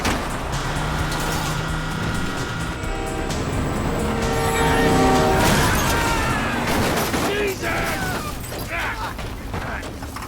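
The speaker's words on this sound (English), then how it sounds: "Beat the train, man!" Train passing in Grand Theft Auto 5 during a car chase, a loud rumbling roar that builds and peaks midway, mixed with gunfire, engine noise and shouting voices over game music.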